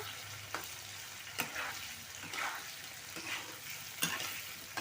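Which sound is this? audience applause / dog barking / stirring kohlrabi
stirring kohlrabi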